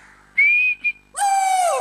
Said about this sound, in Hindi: ये आप बार बार सीटी क्यों बजा रहे हैं